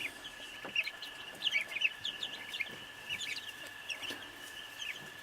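Mixed-breed laying hens cluck and chatter softly in scattered bursts, with a faint steady tone humming underneath.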